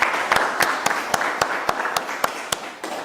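Audience applause at a Haitian reality show finale ranking, broken by sharp, regular percussive hits roughly every quarter second over a steady wash of clapping and crowd noise, with no speech.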